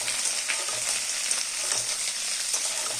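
Chilli paneer sizzling and frying in a pan while being stirred, a steady close hiss with soft scraping strokes throughout.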